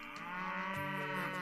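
Cows moo in the Doraemon Story of Seasons farming video game, one long, loud, steady bovine call that fills the whole moment, with no speech.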